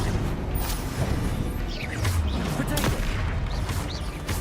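Spell blasts from the Hogwarts Legacy video game crack out in a rapid string of sharp, loud bursts over busy combat noise, while a voice briefly shouts during the barrage.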